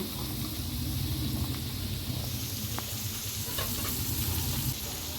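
Onion and capsicum sauté in butter for a paneer dish, giving a loud, continuous, close sizzle with a few faint taps of a stirring spoon throughout.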